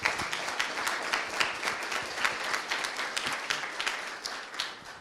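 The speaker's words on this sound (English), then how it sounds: "Another big applause, please, for the speaker." Steady audience applause at an aerospace workshop, even and sustained for several seconds with no voices above it.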